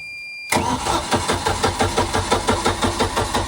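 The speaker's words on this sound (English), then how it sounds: "let's see if it cranks over faster, and if so, if it starts right up" A 1999 Sea Ray 180 BR boat engine, hooked to a jump pack, cranks over steadily in rapid, even pulses after a brief quiet start, turning repeatedly without catching.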